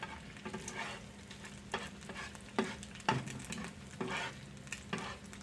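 Eggs frying in a skillet on a flat top, a steady close sizzle broken by several sharp scraping stirs of a spatula, with no voices.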